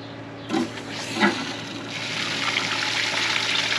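Water flushes through a pipe in an old cattle barn, a couple of splashy gurgles followed by a building, steady rushing flow that carries on to the end.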